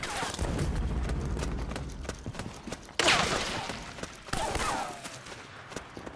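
Rapid suppressing gunfire in Metal Gear Solid 4: Guns of the Patriots, dense crackling bursts running throughout with two sharp louder volleys, mixed with battlefield clatter.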